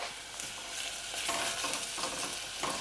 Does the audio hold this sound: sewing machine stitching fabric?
no